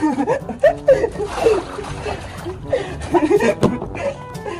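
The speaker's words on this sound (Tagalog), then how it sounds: "dito ka naman sa may gripo para ka nagsha-shower" Water from an outdoor faucet splashes while a bird is being rinsed, uneven spattering and pouring close by, mixed with chuckles and laughter and a person talking.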